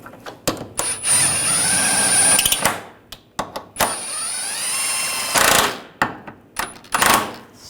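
A power tool whirs in repeated bursts while snugging the control arm bracket bolts on a 2009-2017 Volkswagen Tiguan, loud long runs separated by short pauses and clicks.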